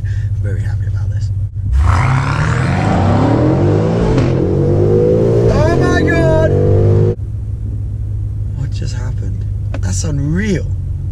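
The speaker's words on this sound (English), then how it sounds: "I'll do another launch in the M5." A BMW M5 First Edition launches hard from inside the cabin, its engine roaring and climbing through rising gear pulls with brief shift dips, loud and close, while someone talks over the drive.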